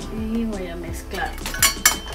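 A small spatula scrapes and clinks against a bowl while corn casserole ingredients with cilantro are mixed, giving a few irregular taps and clatters with a voice faintly underneath.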